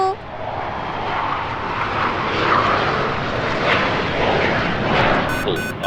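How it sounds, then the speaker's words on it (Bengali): Loud, steady roar of a fighter jet passing overhead, sustained for several seconds with a broad rushing engine noise. "আকাশে একটা ফাইটার বিমান দেখা যাচ্ছে"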